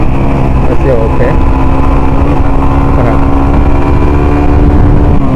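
A Suzuki GSX 150cc motorcycle engine runs close by with a loud, steady, droning roar that holds without pause throughout.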